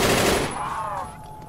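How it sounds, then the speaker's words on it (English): A huge weapon fires in a Roblox zombie game, a loud burst of gunfire at the start that fades into a ringing, wavering tail within about a second. "That's a huge weapon shot"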